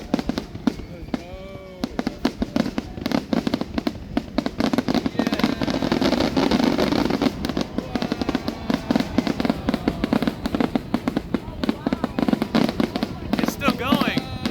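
Fourth of July fireworks pop and crackle in rapid, continuous bursts, some louder booms rising mid-sequence, while people talk and cheer nearby throughout the display.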